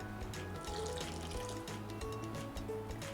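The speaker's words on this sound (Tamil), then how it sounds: "ஸோ நான் தண்ணி ஊற்றி கலக்க போகிறேன்." Water being poured into appam rice batter while it is stirred, a steady close splashing, trickling sound with small clinks running throughout, fairly quiet and without speech.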